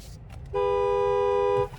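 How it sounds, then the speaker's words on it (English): A single sustained horn blast from a 2025 Chevy Malibu LS, about one second long, steady and close, with faint background noise around it. "There's the horn sound."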